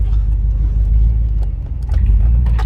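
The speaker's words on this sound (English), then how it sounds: "right now the motor's sounding good" Chevrolet Trailblazer SS truck with an LS2 V8 engine idling, a loud, close, steady low rumble with a few faint knocks and clicks over it.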